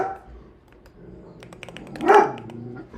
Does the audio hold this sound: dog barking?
yes